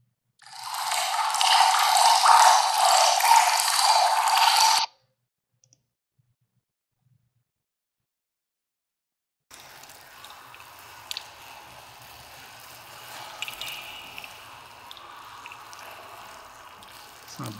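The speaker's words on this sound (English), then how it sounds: "like water dripping in a cave" Water dripping in a cave, offered as a sound effect: a dense burst of close clicking drips for several seconds, then silence, then a fainter, sparser run of drips with a low background hum.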